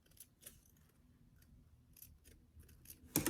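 Scissors snip into the seam allowance of a sewn doll dress: a few short, crisp cuts spaced apart, close and quiet, ending in a louder, fuller snip.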